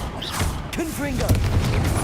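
A Confringo blasting spell detonates in Hogwarts Legacy, a couple of punchy booms and crunching impacts layered over continuous game ambience, with brief talking mixed in.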